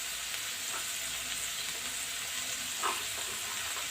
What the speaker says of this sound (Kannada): ಹಾಕ್ಕೊಂಡು ಇದನ್ನು ಸ್ವಲ್ಪ ಫ್ರೈ ಮಾಡ್ಕೊಳ್ಳೋಣ